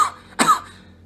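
A single short, harsh cough bursts out in a quiet space, preceded by a faint breathy sound.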